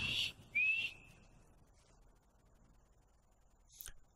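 A character in the video game Skyrim whistles two short, bright notes in quick succession, followed by near silence and a faint click at the end.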